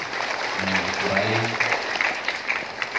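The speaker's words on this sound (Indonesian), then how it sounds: "Mari kita berikan tepuk tangan kepada Bapak Likurai." An audience at a thanksgiving Mass for a newly ordained priest breaks into steady, sustained applause, while a voice speaks briefly at the start over the clapping.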